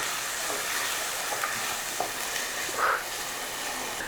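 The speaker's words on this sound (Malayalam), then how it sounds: "നന്നായിട്ട് ഇളക്കി കൊടുക്കുക" Kerala-style beef curry masala stirred and fried in a pan until brown, a soft continuous sizzle with a few scraping clinks of the spoon, moderately quiet and free of talk.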